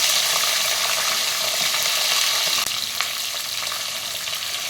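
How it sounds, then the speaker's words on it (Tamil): Eggplant pieces frying in hot oil for vangi bath, a Tamil brinjal rice, give a loud, steady, close sizzle with a few light stirring scrapes partway through and no talking. "கத்திரிக்காய் வந்து எண்ணெயில் நல்லா வதக்கலாம்."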